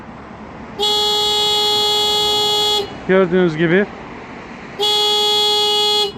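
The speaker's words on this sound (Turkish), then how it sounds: "Bunun ismi kapılara duyarlı hırsızlık alarmı" Door-sensitive theft alarm on a Renault Fluence honks the car horn in two long steady blasts, loud and close, with a person speaking briefly in the gap between them.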